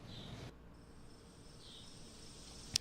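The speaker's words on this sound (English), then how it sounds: "Crickets?" Faint, steady high-pitched insect chirring, like crickets, continuing quietly throughout, with a brief sharp click near the end.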